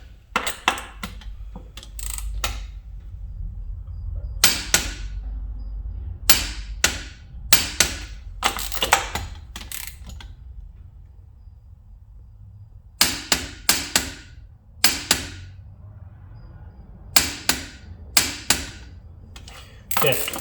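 Torque wrench set to 90 clicking repeatedly as it tightens wheel lug nuts on a GMC Sierra or Toyota Tacoma SR5, sharp bursts of clicks in several groups with quiet gaps between, close by over low background rumble.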